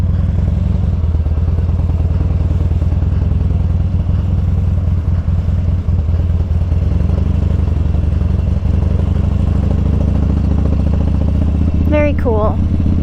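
A motorcycle engine drones loudly and continuously, close by, as it is put into gear and ridden at a rural Kentucky mill. The deep, steady rumble persists throughout, with a brief voice near the end.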